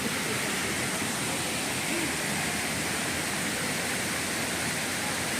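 Steady broadband rush of an artificial waterfall in Hong Kong Park, water pouring over stone near a turtle pond, continuous and even with no breaks or voices.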